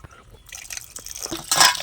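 Water runs from an open tap while fish are rinsed, giving soft splashes and drips that swell into a brighter, louder gush near the end.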